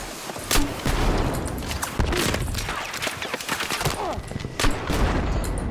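Dense gunfire and bursts from the video game Battlefield 6, a continuous loud barrage of shots and impacts with sharp peaks, no clear talk.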